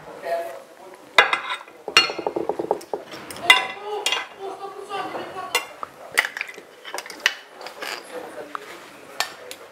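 Utensils clink and scrape against plates and a pan while seafood spaghetti with mussels and clams is plated, giving sharp, irregular metallic taps and clatters up close, with someone talking in between.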